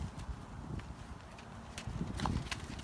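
Horse hooves clip-clop at a steady walk, moderately near, with a low rumble of outdoor background underneath and no speech; a white horse is among the horses.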